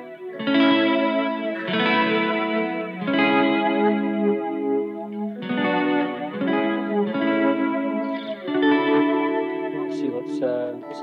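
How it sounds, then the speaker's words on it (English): Jazzmaster electric guitar played through a chorus-style pedal, shimmering sustained chords ringing out in a steady, loud, continuous phrase with a few brief pauses and bright accents near the end. "it kind of has that little chorusy effect"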